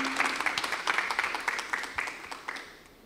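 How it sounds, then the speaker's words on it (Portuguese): A church congregation applauding during a couples' service, a short burst of clapping with distinct individual claps pulsing on top, fading away toward the end. "Você pode dar suas palmas ao Senhor"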